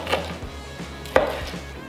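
A knife cuts through cooked steak on a cutting board, two distinct firm knocks of the blade hitting the board over a faint background hum, close, with no talk.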